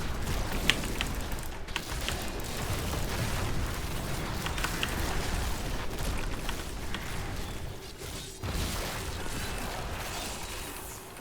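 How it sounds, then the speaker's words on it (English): Explosions in Diablo 3 build into a continuous dense roar of booms, crackles and rumbling bursts lasting several seconds, steady and loud, with no talking heard. "just a few too many explosions to be standing in happily"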